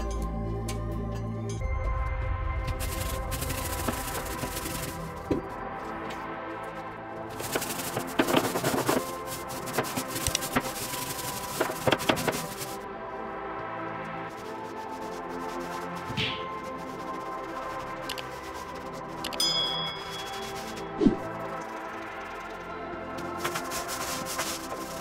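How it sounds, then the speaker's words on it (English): A hard bristle scrub brush works powdered abrasive cleaner and degreasing solution across floor tiles, giving repeated rough rasping strokes with brief pauses, close and fairly loud throughout. "scrubbing the floor was the hardest part of this project"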